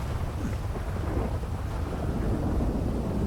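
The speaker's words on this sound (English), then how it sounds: "that storm just rolled in out of nowhere" A thunderstorm in the NewDay RP game gives a steady, dense wash of rain with a low, rolling thunder rumble underneath. It holds loud and even throughout, with no voices.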